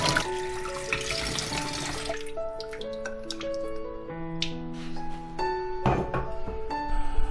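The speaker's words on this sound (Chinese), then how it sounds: "我们先来把鹌鹑蛋表面清洗一下。" Quail eggs are rinsed under a running kitchen tap, water streaming and splashing into the sink with a few knocks and drips, close and without talking.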